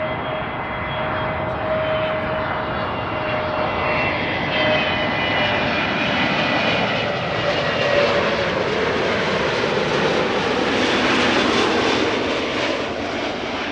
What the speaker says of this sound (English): EasyJet arriving from Stansted, A320neo. Next after that, KLM flight 1002 arriving from London Heathrow, and A321neo.